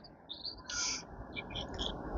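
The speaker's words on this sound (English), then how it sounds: "Okay, so there's lots of birds out here." Several birds chirp and tweet outdoors near a country oak deck in Manchester, with repeated short high calls in bursts over steady background noise.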